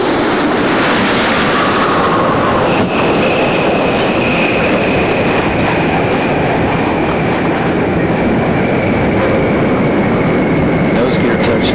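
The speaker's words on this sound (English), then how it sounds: "Discovery is rolling out at sunset on runway 15 at the Kennedy Space Center" Space Shuttle Discovery on mission STS-116 landing and rolling out on runway 15 at Kennedy Space Center at sunset, a loud, continuous, broadband roar that holds steady throughout, with a voice talking over it.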